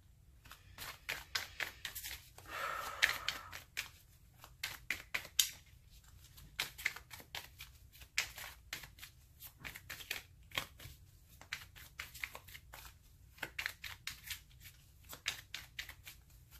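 Quiet, intermittent riffling and soft slaps of tarot cards being shuffled, in bursts with short pauses, close by and faint.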